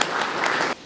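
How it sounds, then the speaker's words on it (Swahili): A gathering of teachers bursts into applause, a dense, steady wash of many hands clapping at once that holds evenly for under a second before cutting off. "Tujipongeze kwa makofi."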